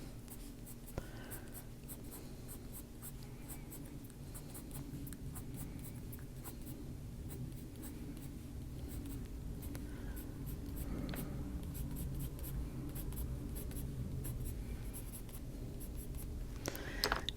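Coloured pencil scratching steadily across paper while colouring a fairy picture in earth green, a soft continuous close scraping texture with no talk.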